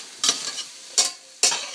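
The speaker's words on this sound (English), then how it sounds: "So we're going to stir around our sauteing stuff a little bit more." Three separate bursts of stirring in a frying pan as garlic and other vegetables sauté for a soup and sauce, each a short scraping sizzle rising over a low steady frying hiss, close and fairly loud, with no talk.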